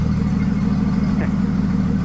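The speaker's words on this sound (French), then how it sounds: "Vrai démarrage à manivelle, comme dans le temps." Engine of a vintage Bombardier B12 snowmobile running after a hand-crank start, a loud steady low idle rumble with an even throb, close by and without talk.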